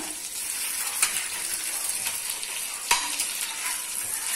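Fish slices fry in shallow oil with a constant close crackling sizzle, punctuated by two sharper scraping clatters as the pieces are turned over in the pan.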